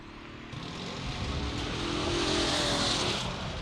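A drag racing car makes a solo bye run at Luskville Dragway, its engine roar building into a loud, sustained broadband rush that holds steady from mid-distance, with no voices.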